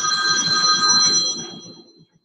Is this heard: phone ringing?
yes